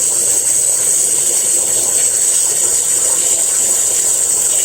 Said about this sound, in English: it makes the jet sound. So the water will always be bubbly like